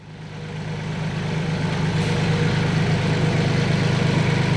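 A tractor engine runs steadily while its forks lift barn stall gates, a loud, close, continuous low diesel drone that swells slightly at the start and then holds even throughout.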